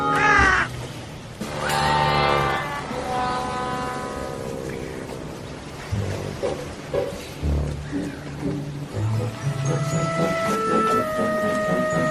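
Crows caw loudly in several harsh, ringing calls that overlap at times. Other outdoor noises sound underneath the calls.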